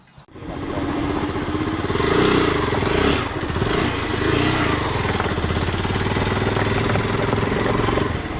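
A motorcycle engine running loud and close on a trip through rural Bankura, India, a constant throbbing rumble with slight revving swells.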